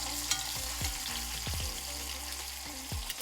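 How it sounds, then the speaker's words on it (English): Pork pieces browning in a small pot give a steady close sizzle and hiss, with a few soft knocks and scrapes as the meat is stirred. "So put your pork back in, get it in there."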